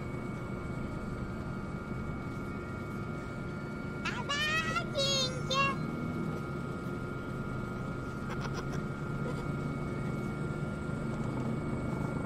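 A steady helicopter engine drone throughout in the video game Squad, with a brief burst of voices partway through.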